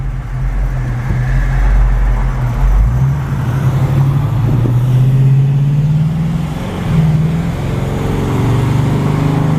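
A 1947 Ford coupe hot rod gives off a steady, deep engine rumble from inside the car, rising and easing slightly in pitch as it drives along.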